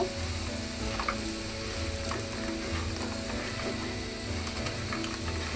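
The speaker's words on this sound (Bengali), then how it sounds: "আমার কিন্তু বড়া ভাজাটা হয়ে গেছে" Potato fritters (bora) fry in a pan of oil, giving a dense, even sizzle with a constant low mechanical hum underneath and faint crackles throughout.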